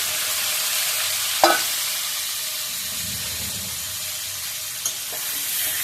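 Potatoes and cauliflower frying in a pan, a steady broad sizzle and hiss with a couple of brief clinks of stirring, close and unbroken by talk.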